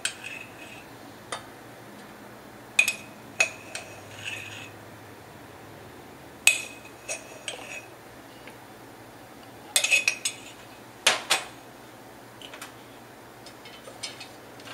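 Orange soufflé mixture with flour stirred in a pan, heard as scattered metallic clinks and taps of a utensil against the pan, some in quick clusters, over a quiet background.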